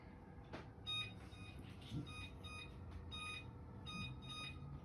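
An oven's control panel gives a series of short, high electronic beeps as bake is selected, several quiet tones spaced across a few seconds over a faint room hum.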